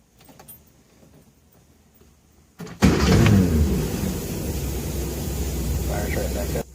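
Engine of a 1957 Nash Metropolitan barn find, after sitting for many years, firing up: quiet cabin noises, then a sudden crank and catch into a loud, steady idle that runs on close by.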